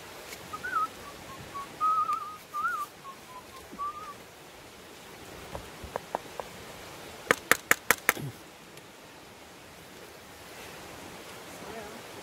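A person whistles a wavering tune outdoors in the wilderness for a few seconds, faint against a soft background hiss, followed later by a handful of sharp knocks.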